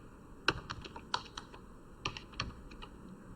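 Keys clatter on a computer keyboard as a sentence is typed into MS Word, with close, irregular clicks in short bursts and brief pauses, and no voices.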